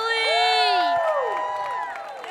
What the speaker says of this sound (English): Round of applause for Zennifer Sage